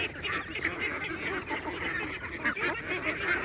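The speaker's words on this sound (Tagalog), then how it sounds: "Yan lang po kaganda sa itik, mabilis kumain." Free-range ducks call in a dense, overlapping chorus of honks and quacks while feeding, loud and close, with a busy, continuous texture and no talking.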